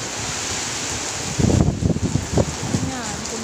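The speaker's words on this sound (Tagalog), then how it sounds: "Grabe lakas ang hangin, guys." Strong typhoon wind roars steadily with the hiss of heavy rain in Pangasinan, swelling into louder gusts midway.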